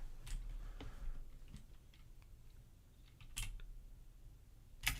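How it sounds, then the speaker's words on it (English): Typing on a computer keyboard during a Python coding session produces sparse, quiet clicks and a few sharper key taps, irregular and faint over low room hum, with no talk. "Let's go back to typing mode for a little bit."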